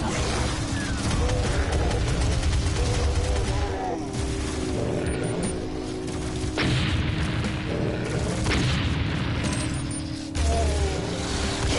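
Heavy, sustained automatic fire from a chain gun in Doom 2016 roars on for seconds at a time amid booming impacts and clanking machinery, with brief shifts in intensity, loud and dense throughout.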